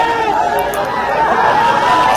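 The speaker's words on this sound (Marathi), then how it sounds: "गर्दी बघा तुम्ही, गर्दी इथे सगळे म्हणजे किती गर्दी आहे गाईज" A dense crowd of fans jostles and pushes at a festival on Savali Maidan, Desai, producing a loud, continuous hubbub of many voices close by, with shouting and chatter filling the whole moment.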